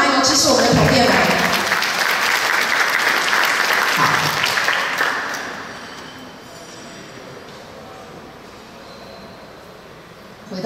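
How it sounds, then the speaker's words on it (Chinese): An audience at a cruise itinerary launch event breaks into loud, full applause that lasts about five seconds, then fades to a low murmur of room noise. "来点掌声好吗？"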